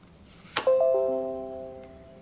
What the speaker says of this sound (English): The little bell which rang